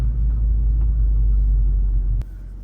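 A manual car's engine rumbles low and steady as the throttle is pumped, then drops abruptly to a softer idle after a click near the end, with no talking.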